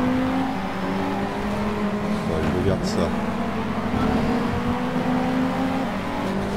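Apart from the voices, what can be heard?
Ford Focus ST car engine revving in the video game Shift 2 Unleashed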